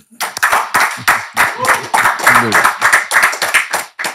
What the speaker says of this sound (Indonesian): Kita tepuk tangan buat Kang Ian.